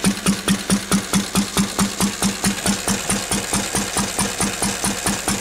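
A 1951 Lister D donkey engine idles on a full-rich setting, giving a steady, rapid, even chugging beat up close, with each firing pulse clearly separated.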